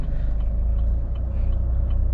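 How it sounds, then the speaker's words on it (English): A Chevrolet Cruze engine stalling on a toll road, a steady low mechanical rumble that holds loud and continuous without voices. "For no reason the car is stalling"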